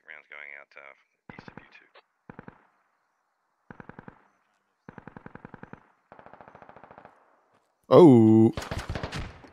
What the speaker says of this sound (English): Ooh, an HMG taking shots.